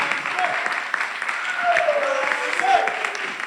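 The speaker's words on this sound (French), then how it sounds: "Sous vos applaudissements." Crowd applause at an outdoor evening music show as a performer is called up, a sustained, fairly loud clapping roar with voices and cheers mixed through it.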